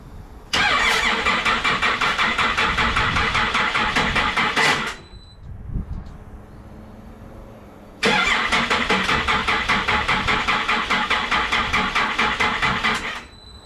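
Rebuilt Cummins diesel engine cranks in two long bursts of rapid, rhythmic starter chugging with a short quiet pause between, loud and close-up.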